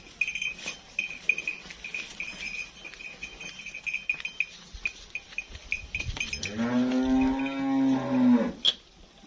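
Sahiwal cross cow in Pakistan letting out one long, loud moo near the end, after quieter farm noises and a faint steady tone.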